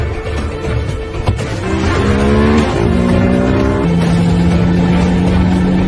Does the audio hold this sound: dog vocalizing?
no